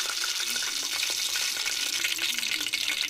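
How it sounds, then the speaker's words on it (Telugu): Tempering spices go into hot oil and fry with a steady, close crackling sizzle that holds at an even level for a few seconds, with faint popping and no voices. "ఇంక ఇందులో పోపు దినుసులు వేస్తున్నాను"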